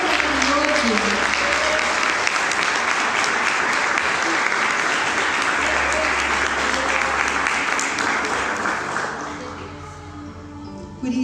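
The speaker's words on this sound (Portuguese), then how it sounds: "Eu posso ter uma salva de palmas para esse Deus maravilhoso." A church congregation at a Brazilian service breaks into long, loud applause, dense clapping from many hands that holds steady and then thins and fades toward the end.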